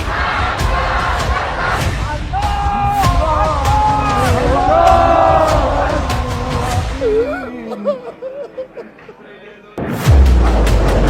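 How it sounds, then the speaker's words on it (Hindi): A huge crowd at a mass funeral in Iran chants slogans in loud, echoing waves that rise and fall. The chanting thins out toward the end, where a few scattered voices remain before a sudden loud burst. "गूंजते नारे"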